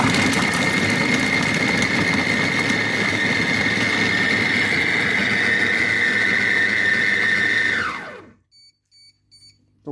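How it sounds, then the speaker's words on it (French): A Compact Cook Pro Cookomix kitchen robot runs at speed 4 with a steady, loud motor whine and hum for about eight seconds, then winds down abruptly and stops, followed by a few faint clicks. "Alors j'allume mon robot. Et je vais mettre donc le temps à 8 secondes. Vitesse 4."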